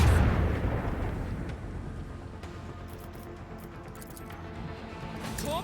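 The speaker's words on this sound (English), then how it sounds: "Fire the lance batteries." Lance batteries in the Warhammer 40K: Rogue Trader video game fire with a deep, heavy boom that opens loud and rolls into a long rumbling decay, with faint metallic chirps near the end.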